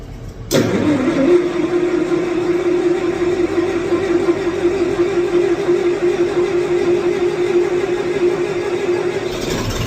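A small engine, likely on a Ditch Witch or Bobcat machine, is cranked with choke and throttle and catches at once, then runs loudly at a steady mid-pitched idle for the rest of the clip.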